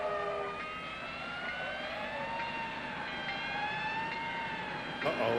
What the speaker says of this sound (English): I heard a train whistle, didn't you?